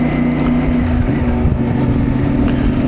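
A CFMOTO MT450 motorcycle engine runs steadily in fifth gear at around 3,000 rpm on a trail ride, a loud, close, even drone with slight shifts in pitch partway through.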